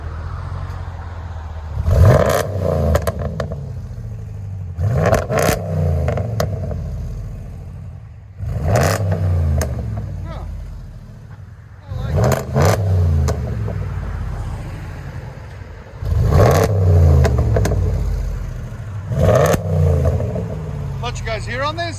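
Close exhaust of a RAM 1500 with a 5.7L HEMI V8 and resonators, revved repeatedly in roughly six deep, rumbling bursts that fall back to a quiet idle between them. People talk over it.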